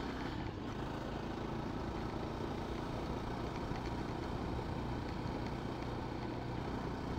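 A motorcycle on a road ride to Trimbakeshwar, held under 50 with a warm engine, gives a steady, unbroken drone mixed with rushing wind noise at even loudness throughout, with no talk.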